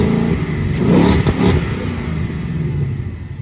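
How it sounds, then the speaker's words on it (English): A Ford Mustang GT, S550/S650 generation, fitted with a ram air intake mod, pulls hard, its engine revving up with a loud, raspy induction roar that swells, holds, and eases off over a few seconds, heard up close and without talking. "That is a surprisingly large increase in induction noise."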